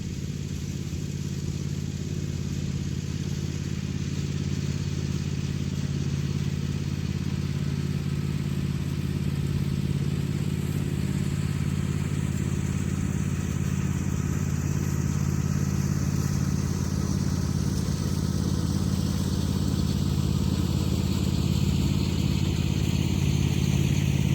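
A tractor engine runs steadily at a mid-pitched drone while cutting grass at a cabin, holding a constant, fairly close rumble with no talk throughout.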